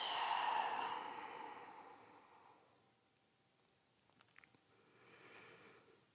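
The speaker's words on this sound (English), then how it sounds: "let's take a big breath in, slow breath out" Slow, deep yoga breathing: one long audible exhale fading out, a pause, then a softer breath drawn in, quiet and close with faint rustling.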